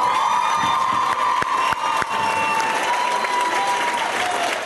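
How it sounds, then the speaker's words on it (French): Large audience applauding at a secondary-school talent show final and awards ceremony: sustained dense clapping with cheers and a few shouts, steady and loud throughout. "On peut s'applaudir."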